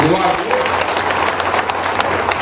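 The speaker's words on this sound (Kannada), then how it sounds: "ಜೋರಾಗಿ ಚಪ್ಪಾಳೆ ಹೊಡೆದಿರಿ" Loud, dense applause from an audience at a Basava–Bhima program in Kudalasangama, steady clapping throughout with a crowd murmur beneath it.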